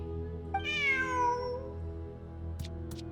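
One drawn-out cat meow in the video game Genshin Impact, clear and close, rising then sliding down, over a low steady hum with a couple of faint clicks afterward.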